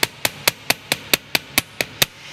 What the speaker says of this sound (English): I'm going to come in here and hammer this one flat.